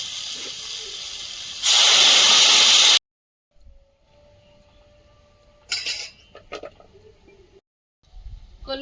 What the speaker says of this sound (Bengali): শাকটা দিয়ে আর বেশি ভাজবো না এবার জল দিয়ে দেবো